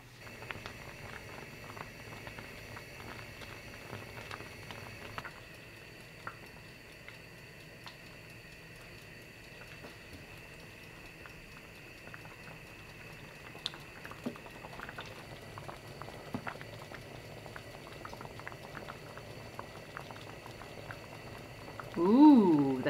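Plum jam cooking on high heat in a pot, a faint, steady low bubbling and soft popping that runs quietly throughout, with a louder clatter right at the end.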